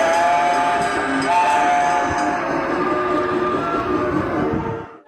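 Loud train rumbling along rails at a historic prisoner-of-war camp exhibit in Geoje, Korea, a heavy continuous roar with tonal screeching and clanking, sustained and then cutting off abruptly at the end.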